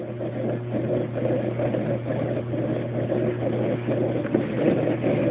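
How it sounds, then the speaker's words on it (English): An old rock tumbler's small electric motor turning, a steady low whirring hum with a faint rattling texture, close and constant without pauses. "you can see the motor in there, see, it's turning"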